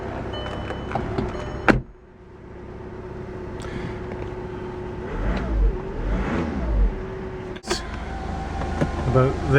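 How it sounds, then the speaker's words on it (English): Power windows and the roof of a Volkswagen GTI whir closed in several motor runs, some rising and falling in pitch, over a low idling engine, with a few clunks and a voice nearby. "I'm just closing up all the windows, closing the roof, close the roof"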